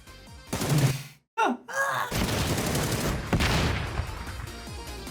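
Gunfire and rocket blasts in a video game come as loud bursts of shots, a sudden cutout, then dense continuous rattling fire and explosions, close and harsh.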